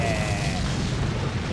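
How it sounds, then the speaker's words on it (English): A rolling barrel explodes after being shot in Resident Evil 4 HD, a single loud, close in-game boom with a rumbling tail that fills the whole brief moment. "Shoot the rolling barrel."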